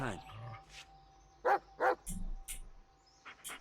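A dog barks twice in quick succession in the Blair Witch video game, short loud barks amid quieter game sounds, with a person talking around them.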